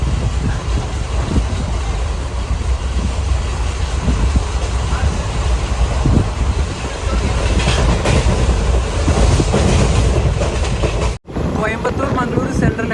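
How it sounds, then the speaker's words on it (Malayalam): The Maveli Express rolls along the rails in Kerala with a loud, steady rumble and rattle heard from inside a sleeper-class coach, wind rushing past and a sudden sharp change near the end. "അങ്ങനെ ട്രെയിൻ കേരളത്തിലേക്ക് കയറിയിരിക്കുകയാണ്."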